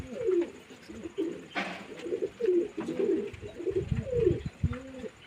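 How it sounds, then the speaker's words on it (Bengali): Young pigeons cooing in a loft, a series of soft, repeated throaty coos with a brief flutter of wings, fairly near and quiet, with no voices. "পায়রাগুলো আছে এগুলোও সব নতুন বাচ্চা"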